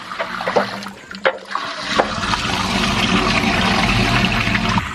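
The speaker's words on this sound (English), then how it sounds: "Now he pulled that up, so now all the water is free to run out." Water gushes steadily out of an outdoor bioreactor once its stopper boards are pulled, a loud, continuous rushing flow that builds after a few knocks and splashes and then holds strong.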